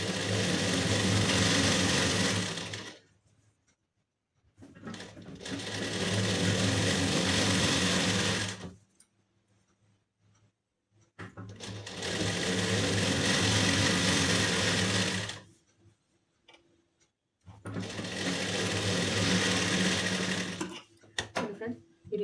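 A sewing machine stitches a lining piece onto a blouse piece in four loud, close bursts of rapid whirring, each lasting a few seconds, separated by quiet pauses with faint handling sounds.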